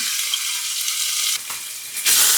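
Meat with garlic and ginger sizzles in olive oil in a hot pan, a loud continuous hiss close by with a brief dip and a sharp surge as it's stirred.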